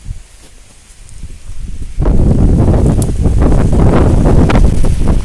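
Strong wind roars and buffets loudly, starting quieter and surging to a steady, gusty blast with rustling noise.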